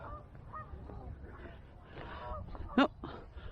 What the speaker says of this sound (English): our favourite birds, the Canada geese, making lots of noise